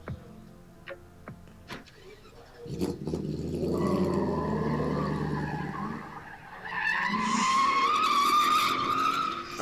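A BMW E28 with a V8 engine drifts on a street. Scattered clicks give way to a building engine roar, then a loud, sustained tire squeal and skid at close range.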